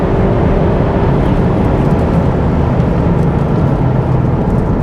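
A Cupra driven hard on a race track while chasing an Audi RS3, with dense, steady in-cabin engine and road roar, loud and continuous, and no talking.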